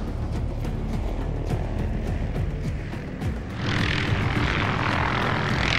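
Helicopters in a Medal of Honor Warfighter game cutscene thrum with a rapid rotor chop and engine drone, swelling louder with a broad whooshing roar midway.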